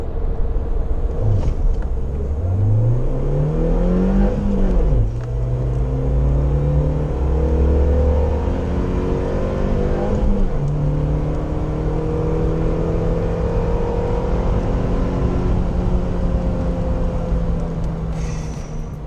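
Interior engine noise from a 2019 Suzuki Jimny under acceleration, a loud continuous drone that climbs in pitch through each gear, drops briefly at the shifts and rises again, steady road rumble beneath.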